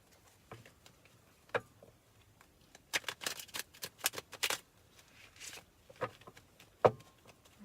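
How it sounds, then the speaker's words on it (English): Tarot cards being shuffled nearby: a quick flurry of crisp riffling clicks, bracketed by a few isolated taps and slaps, with no talking. "Let's give it a couple more shuffles."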